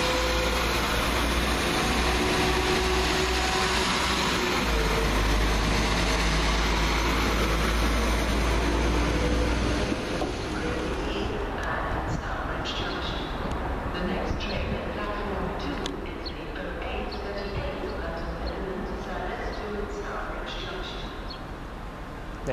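A London Midland class 172 diesel multiple unit at Birmingham Moor Street station, its engine rumbling steadily for about ten seconds before dropping to a quieter hum with station clatter.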